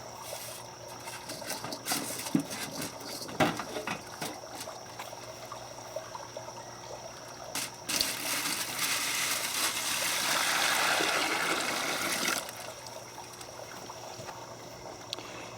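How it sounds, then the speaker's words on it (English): Hot water pouring into the water pan of a Weber Smokey Mountain smoker, a steady trickling stream that swells louder for several seconds midway, with faint clinks and handling noises around it. "I fill it up with hot water so it doesn't affect the temperature as much as cold water."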